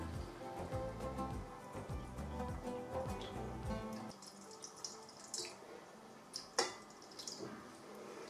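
Water pours and trickles into a pan while making a chocolate caramel flan cake, a continuous splashing stream for the first half, then scattered drips and small clinks close by.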